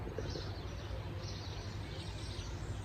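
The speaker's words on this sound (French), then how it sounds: "on entend quand même les oiseaux chanter" Faint birdsong chirps in the background over a low, steady outdoor rumble, distant and soft throughout.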